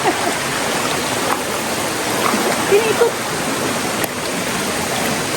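A river stream flows steadily during solo hiking near the Curug Cisadane waterfall, a constant broadband rush of water with a few brief spoken words over it.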